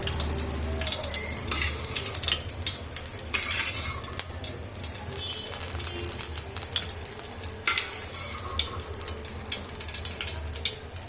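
Red chillies frying in a pan, a continuous soft sizzle and crackle with occasional stirring scrapes, steady and close throughout.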